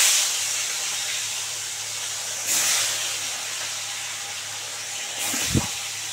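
Koi fish fry in hot oil with a steady hiss and sizzle, rising in short swells, with a brief low knock near the end.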